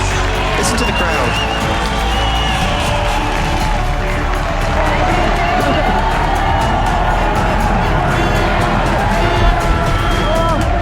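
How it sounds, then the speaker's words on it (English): Crowd cheering at a motocross contest after a big trick combo, a loud, continuous roar of shouts and clapping from a large audience, with wind noise and voices mixed in throughout. "Listen to the crowd."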